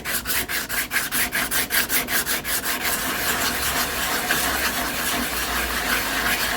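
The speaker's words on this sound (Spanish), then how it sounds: "Se puede lijar redondeándolo también." Quick rhythmic hand-sanding strokes scrape a car body for a few seconds, then fade into a steadier rough rubbing hiss over a low background rumble.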